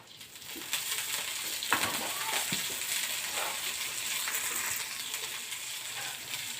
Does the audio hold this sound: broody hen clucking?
no